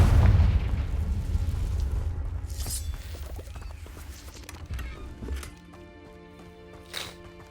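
Casting the Confringo fire spell in Hogwarts Legacy sets off a deep booming blast that fades into a low rumble, followed by scattered lighter impacts and magical effect sounds.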